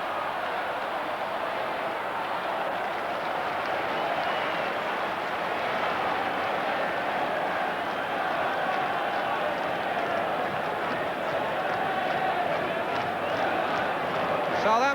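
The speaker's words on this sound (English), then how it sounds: "Southampton fans making their appreciation heard." Southampton football supporters in a packed stadium during a 1981-82 league match against Liverpool, a steady roar of crowd noise sustained throughout, broad and loud, with a commentator's voice faintly underneath.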